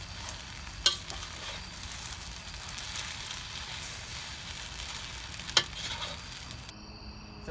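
Mee goreng mamak fried noodles with Asian chives are stirred and tossed in a hot pan, a steady sizzle running throughout with a couple of sharp utensil clinks against the pan.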